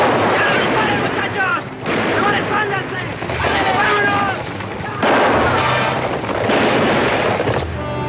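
Heavy, sustained game gunfire with booming blasts, loud and dense throughout, briefly dipping near two seconds and again around five.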